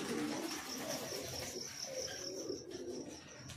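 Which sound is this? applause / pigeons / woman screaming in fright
pigeons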